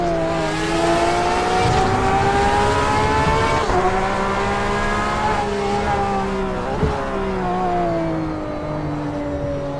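Porsche 911 RSR race cars roar around Spa in a racing video game, a dense wail of several engines holding high revs with shifting pitch and occasional tire squeal, loud and continuous.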